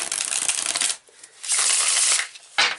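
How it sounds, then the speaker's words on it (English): Two bursts of riffle shuffling, a rapid crisp flutter of cards, close and loud, with a short thud in between and a sharp snap at the end. "Oh, they riffle shuffle nice"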